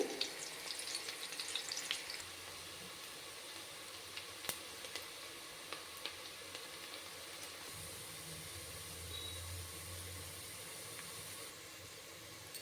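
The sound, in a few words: onions and garam masala frying in a pan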